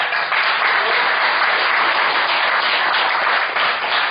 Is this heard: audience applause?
yes